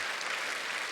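A church congregation applauding during a sermon, heard as a continuous dense wash of many hands clapping at a moderate distance.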